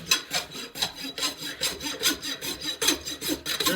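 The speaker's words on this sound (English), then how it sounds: "Then we take the smooth side of the rasp, and I'm going to start on this side and work this way." A farrier works the smooth side of a rasp across a horse's hoof while shoeing, a close, steady series of rough scraping strokes in a quick back-and-forth rhythm, about three strokes a second, with no talk.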